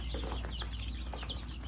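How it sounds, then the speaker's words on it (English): Freshly bought baby chicks, including barred ones, peep in quick high chirps close by, repeated over a steady low hum with no talk. "little baby chicks that we just picked up today"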